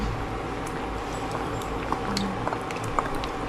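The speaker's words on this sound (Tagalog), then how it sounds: "Lalagyan ko na siya ng gata. Hmm. Dalawang gata ang ilagay ko" Cassava simmers in a pot as coconut milk is added, a steady low bubbling and liquid hiss with a few soft splashes and clicks, fairly close and continuous, with no talking.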